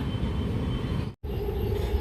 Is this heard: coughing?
no